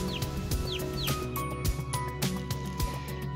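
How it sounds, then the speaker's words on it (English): Chickens cluck and chirp steadily up close around a farmyard with hens and their chicks, with high peeping calls and rooster-like bursts over constant low barnyard noise, no talking. "Good morning, chickens."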